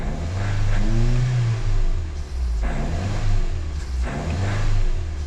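A Mazda2 engine running on hydrogen revs up and settles in repeated swells, a close, loud mid-pitched engine drone rising and falling several times, with no talking.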